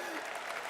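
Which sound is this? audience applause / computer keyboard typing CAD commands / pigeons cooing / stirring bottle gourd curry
audience applause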